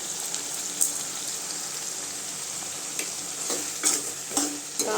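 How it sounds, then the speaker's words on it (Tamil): Brinjal sautéing in oil with tomato for a spicy kara kuzhambu: a steady, close frying sizzle with occasional scrapes and taps of a stirring spoon toward the end. "காய் நல்லா வதங்கணுங்க"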